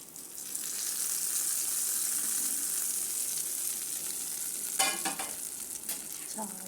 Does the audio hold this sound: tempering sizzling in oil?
yes